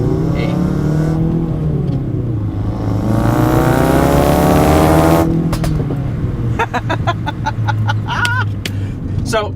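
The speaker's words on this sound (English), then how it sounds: "the car makes all these really cool popping and burbling noises with the exhaust" A 2017 Ford Focus RS runs with a rising engine note and revs, then a rapid run of sharp crackling exhaust pops and burbles near at hand, loud and steady with no talking.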